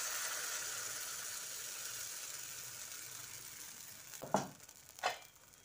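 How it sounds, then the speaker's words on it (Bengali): Semolina batter for chitoi pitha hits a hot oiled wok with a steady, moderate sizzle, then two short louder bursts of hissing near the end. "এবার এই সুজির ব্যাটার থেকে 1 হাতা ব্যাটার নিয়ে এই কড়াইয়ে দিয়ে দিচ্ছি।"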